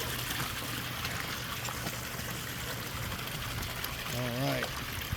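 Water rushes and trickles steadily through a gold-panning sluice box outdoors, with a voice briefly speaking near the end.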